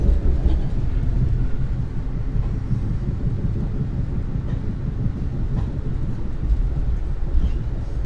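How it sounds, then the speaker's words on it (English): Steady low rumble and rolling hum from inside an Amtrak passenger train during a long ride, continuous and loud throughout with faint rhythmic clicks, no talking. "So we're on the Amtrak."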